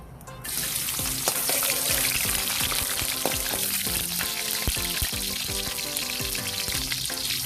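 Garlic frying in hot oil at the start of a mung bean stew, a steady close, loud sizzle with crackles and pops running the whole way through, no voices.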